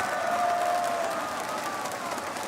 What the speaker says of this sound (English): You can see this crowd is really getting revved up now, getting very, very excited at the prospect of getting back in.